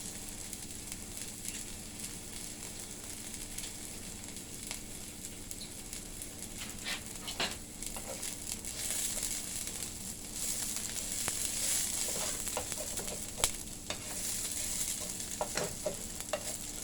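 Beef caramelizing in a hot pan for fried rice noodles gives a continuous soft sizzle with scattered spoon scrapes and pops, rising slightly toward the end, quiet and close with no talking.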